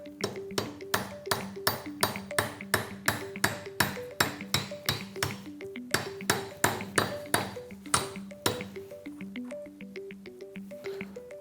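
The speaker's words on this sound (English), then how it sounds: "Let's tap that in place. I've got a little hammer for that." A small hammer taps a part into place on a leaky anti-freeze sillcock, giving a long run of sharp metallic pings in a quick, even rhythm, close and loud, slowing near the end.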